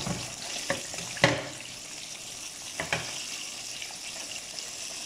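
Buttered buns grill and fry on a hot grill, giving a continuous soft hiss and sizzle punctuated by a few light clicks and taps.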